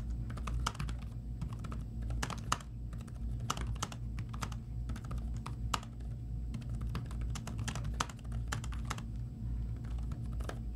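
Steady, continuous typing on an old ThinkPad laptop keyboard running Linux, with quick close clicks and clacks of keys in an irregular rhythm over a low hum, with no voices.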